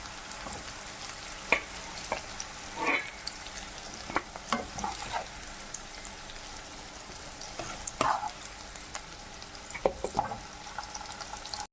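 Sautéed bitter gourd is scooped out of a pan for pavakka curry: scattered scrapes and clinks of a spoon against the pan sound over a faint, steady background sizzle.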